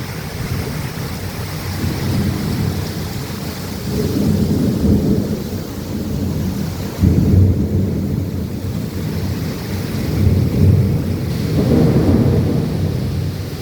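Cyclone rain pours in gusty surges as low thunder rolls and swells repeatedly, loud and continuous throughout.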